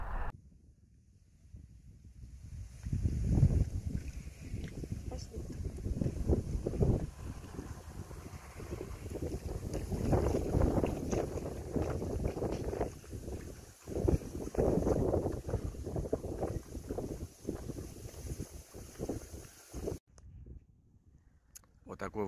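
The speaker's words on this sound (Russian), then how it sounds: "Сегодня ветер." Steady wind beside an estuary on Ukraine's Azov coast buffets the microphone in rough gusts, with a voice talking over it before dropping away near the end.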